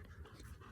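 A dog pants in hot weather with quick, steady breaths, close by but quiet, and no other sounds.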